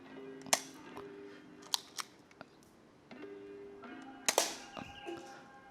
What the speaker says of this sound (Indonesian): Oke, ini adalah tes tembak kedua.